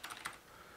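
A git clone command typed on a computer keyboard, a few quick, very faint key clicks in a short burst, then quiet.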